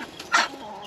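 Chickens feeding on melon give a single short cluck, close by, against a quiet outdoor background.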